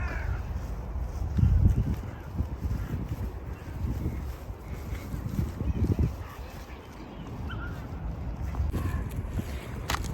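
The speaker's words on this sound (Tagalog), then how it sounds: "Ang ingay ng uwak." Crows caw now and then in the distance over a broad, rushing outdoor background, with a few louder swells of noise.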